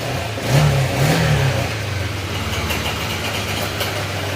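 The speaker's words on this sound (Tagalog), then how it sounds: "ayan ang tunog ng makina niya ngayon" A motorcycle engine revs up twice in quick bursts, then settles into a steady, rough idle close by.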